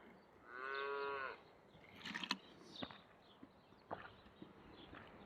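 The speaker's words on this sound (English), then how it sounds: "Medoff says I hear a cow." A cow on a nearby farm gives one drawn-out moo at moderate distance, followed by scattered rustling and clattering noises close by.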